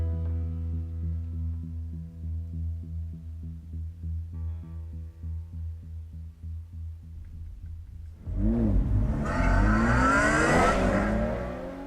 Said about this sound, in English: Here we go with his nice car.